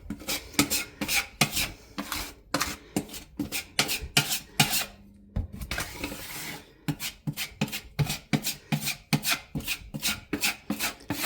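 Putty is worked into holes in a closet wall with quick repeated scraping strokes, a close, rhythmic rasp in bursts with brief pauses between passes.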